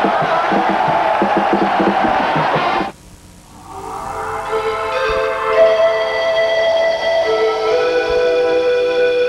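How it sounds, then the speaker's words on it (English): Arena crowd at a 1989 Penn State at Rutgers A-10 Championship basketball game roars loudly and steadily for about three seconds, then cuts off abruptly into quieter tonal sound. "Look at this crowd."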